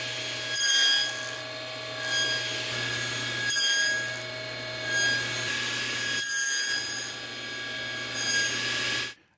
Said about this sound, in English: I'm using just a single blade here, but the teeth on this one are flat on the top, so it's perfect for cutting 1/8 inch box joints